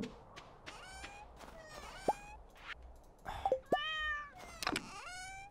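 A cat in the Stardew Valley farming game meows several times in short separate calls, fairly close and clear over a quiet backdrop.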